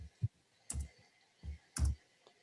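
Sparse, close computer keyboard keystrokes arrive as irregular clusters of soft clicks and taps with short pauses between them, heard alone without talk.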